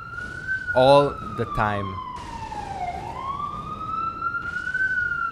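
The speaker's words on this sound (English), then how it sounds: "Fucking sirens." An emergency vehicle siren wails steadily outside, its tone sliding down and back up as it passes. Someone speaks briefly over it near the start.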